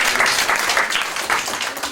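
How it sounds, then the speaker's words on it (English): Audience applause at a talk by a graffiti artist, a dense, close round of clapping that holds steady throughout. "Can you give me a round of applause for you guys?"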